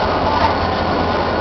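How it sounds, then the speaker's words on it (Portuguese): A passenger train on the Córdoba to Buenos Aires line rumbles steadily from inside a carriage, a loud continuous roll of wheels on track with a faint voice in the background. "Esse é o trem que eu tô viajando"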